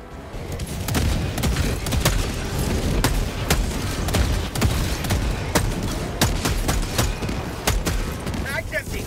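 Continuous loud gunfire and explosions in the Helldivers 2 video game during a planetary defense battle, dense rumbling booms and sharp shots throughout, with a player talking over the din.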